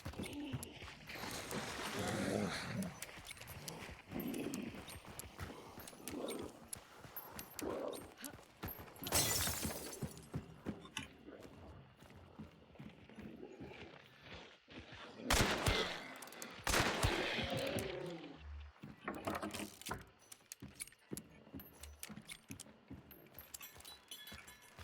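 Video game gunfire in repeated bursts of sharp shots and rattling automatic fire, some close and loud, others sparser, spread over about 25 seconds with brief pauses and faint background noise.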